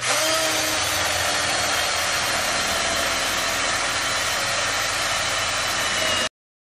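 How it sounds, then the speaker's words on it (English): A drill fitted with an eraser wheel grinds against a car door's painted surface, a steady loud whirring hiss that runs continuously for about six seconds before cutting off abruptly. "Turn the drill upside down and just press it against the paint."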